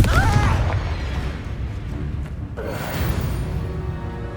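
A Confringo blasting spell exploding in Hogwarts Legacy, a deep boom at the start with a rumbling tail that fades into game ambience, a voice briefly heard at the outset.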